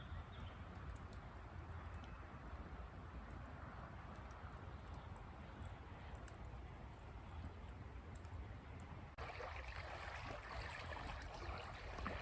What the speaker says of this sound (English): you can hear the water lapping against the shoreline below us